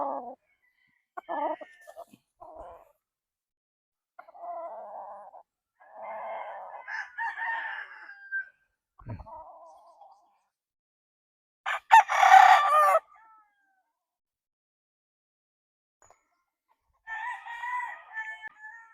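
Gamefowl stags, young roundhead roosters seven to ten months old, crowing and clucking in several separate bursts with silent pauses between them, one crow louder and closer than the rest.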